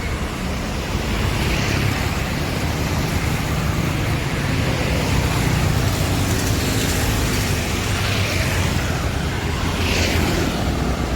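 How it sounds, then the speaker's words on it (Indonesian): A steady, loud roar of an arriving ALS intercity bus engine with broad road noise, continuous and unchanging throughout, close by. "karena tadi ada bus ALS 244 masuk"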